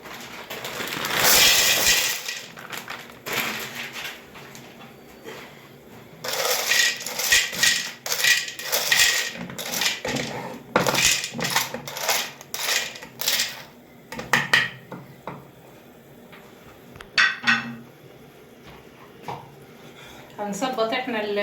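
Dry penne pasta tumbles into a pan in bursts of rattling, clattering pieces, some pours longer and some short, with quieter gaps between and a voice speaking now and then.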